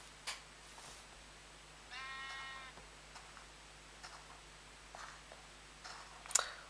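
A single sheep in Minecraft Pocket Edition bleats once, a short wavering cry, amid a quiet backdrop with scattered faint clicks and taps.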